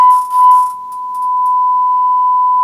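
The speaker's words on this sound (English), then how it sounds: "Sine wave." A steady, pure 1000 Hz sine test tone through a Kenwood KA-3500 amplifier holds at one pitch, loud and unwavering, with a brief burst of hiss at the start.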